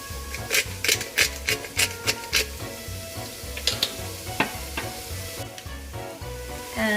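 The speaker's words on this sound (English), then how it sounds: "fry those mushrooms until they are brown in color and lightly cooked." Mushrooms frying in a pan, sizzling steadily while a utensil stirs and scrapes them in quick, rhythmic strokes, close and clear with no talking.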